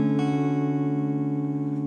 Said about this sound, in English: Then we have what's called a major seventh, and it sounds like this.